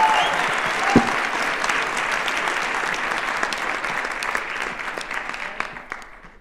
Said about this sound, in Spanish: Aplaudamos a nuestra décima ganadora, a nuestra queridísima Margo Glantz.